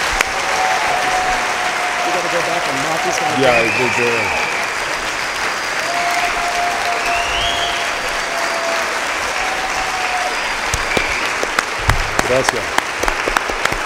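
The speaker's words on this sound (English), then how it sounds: "Let's give him another round of applause" Sustained audience applause for former Mexican President Vicente Fox at a forum, a steady wash of clapping with a few brief words spoken over it and sharper individual claps near the end.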